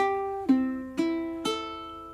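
Three high-G ukulele strums ring out a few beats apart, each chord bright and close, left to decay and sustain before the next.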